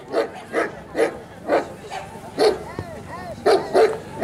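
A guard dog at a protection demonstration in Bulgaria barks repeatedly at a man near a backpack, sharp close barks in a steady rhythm of about eight over four seconds, with a brief whine mid-sequence.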